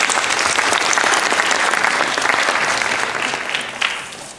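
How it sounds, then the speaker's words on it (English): Sustained applause from a gala audience of volunteers, dense and fairly loud clapping that holds steady before tapering off near the end. "Please give a big round of applause for yourself."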